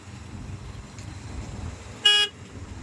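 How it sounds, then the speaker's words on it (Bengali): A single short car horn blast sounds during a manual-car driving lesson, sharp and fairly close, lasting about a quarter second over a low idling engine hum. "আপনি হর্ন দিচ্ছেন কেন"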